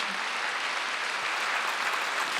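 A church congregation at a Wednesday worship service bursts into dense, sustained applause. The clapping is loud and even and fills the whole stretch without a break.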